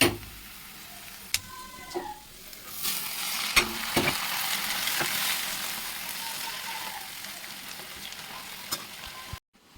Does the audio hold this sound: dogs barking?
no